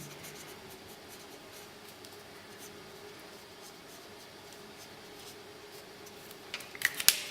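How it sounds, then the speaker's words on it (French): Pencil drawing a cap on paper, a faint soft scratching at close range over low room hum, ending in a few sharper taps and clicks. "je vais dessiner la casquette de côté"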